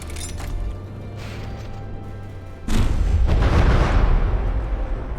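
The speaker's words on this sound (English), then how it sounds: "I immediately got a hit that caused an explosion that was big enough to slow the game down" In the naval combat game From the Depths, a low rumbling cannon shot gives way midway to a large, loud explosion whose roaring, crackling blast sustains to the end.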